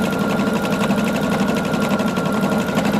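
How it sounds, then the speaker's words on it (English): A sewing machine runs steadily and loudly, stitching a wide blanket stitch along the edge of an applique on a Southwest quilt, a continuous rapid mechanical whir and needle chatter with no pauses. "I'm doing a nice big blanket stitch."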